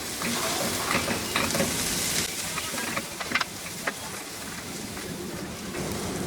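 Ground coriander, turmeric and chili powder fry in hot oil while being stirred, giving a loud, close, continuous sizzle and hiss with a few scraping clatters of the spoon against the pan partway through.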